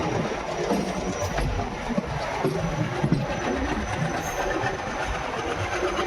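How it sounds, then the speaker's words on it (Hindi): Railway station ambience at Phulera Junction with a train present, a steady loud rumble of rolling stock and engine noise that fills the scene continuously, with faint voices in the background. "तो ये देखिए फुलेरा जंक्शन का माहौल।"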